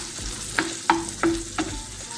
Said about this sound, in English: now you see the sausage is browning up some